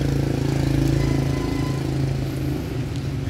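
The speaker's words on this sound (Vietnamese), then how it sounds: "Con là Mitsubishi D75 ha." A Mitsubishi D75 diesel engine, a used Japanese unit, runs steadily at idle with a continuous low rumble and a constant rhythmic chug, up close and alone without any talk.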